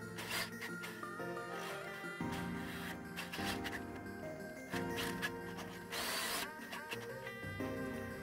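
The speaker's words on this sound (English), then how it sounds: "So I drilled the hole, front and rear." A power drill bores a 7/16 hole through the steel frame of a Jeep Wrangler during a lift install, a loud, steady grinding whine with shifts in pitch as the bit cuts, continuous and up close without speech.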